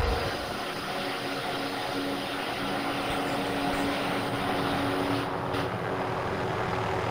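Propeller aircraft flown in Call of Duty, a steady droning engine hum holding constant throughout, close and continuous with no talk over it.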